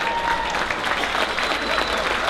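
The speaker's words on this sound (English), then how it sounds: "Y'all, nice round of applause" A round of applause breaks out for the East Texas Angel Network board members at a concert. It is steady, moderately loud clapping from the audience that lasts a couple of seconds.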